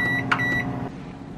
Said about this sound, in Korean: 바로 냉동되어 있는 옥수수를 전자레인지 5분 정도 돌리면 되려나?